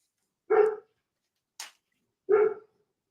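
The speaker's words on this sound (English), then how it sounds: "now I hear a dog barking, which is probably at your end" A dog barks twice, with a short, sharp sound between the barks, all against near silence, as if heard through a remote call.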